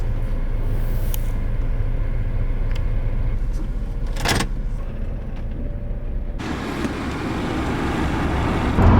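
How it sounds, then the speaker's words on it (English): Steady road noise from a camper van cruising on a highway, a continuous low rumble of tires and engine with a brief whoosh of passing traffic midway and a rise in rumble near the end, no talk. "We're officially back on the road, heading towards home."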